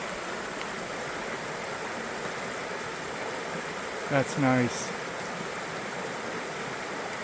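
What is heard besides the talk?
creek riffles, flowing stream water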